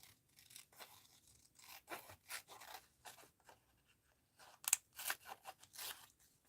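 Scissors snip through paper for an art journal page in a quiet room, a close, faint run of irregular crisp cuts with short pauses between them.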